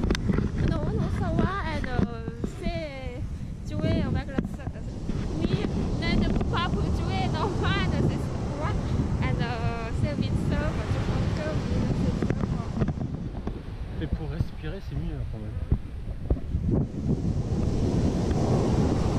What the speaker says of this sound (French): Il y a des vagues, tu vois.